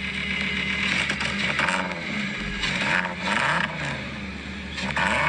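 A VW Golf Mark II fitted with a swapped VR5 engine runs steadily and close by, its busy mechanical idle holding a constant low drone with a few brief rises in intensity and no talk over it.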